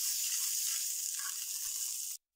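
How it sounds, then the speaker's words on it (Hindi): Cumin and crushed chili sizzle steadily in hot oil as they are stirred, a loud, even frying hiss that holds throughout before cutting off briefly at the end. "साथ में हम ऐड करेंगे इसमें कूटी हुई मिर्च, तो हम थोड़ा सा हिला लेंगे"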